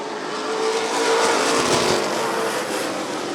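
Stock cars of the Mid-America Stock Car Series roar together at Rockford Speedway on a restart, a loud, dense wall of engine noise swelling slightly mid-clip with no talk over it.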